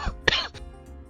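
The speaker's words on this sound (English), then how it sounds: "He coughs directly into the microphone." A man coughs once directly into a microphone, a short, loud, close burst with a throaty rasp, followed by a brief softer throat sound.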